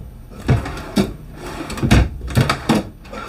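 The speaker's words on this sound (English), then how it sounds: "lot of drawers. They are not soft closing, but they still feel really nice because they're on really smooth ball bearings" Kitchen drawers in a Jayco Jay Feather 29RL RV roll on smooth ball-bearing slides and shut without soft-close, giving five or six sharp knocks and thuds at an uneven pace, close by with no talking.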